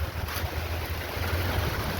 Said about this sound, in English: you can hear the wind is so, good, but blowing with vigor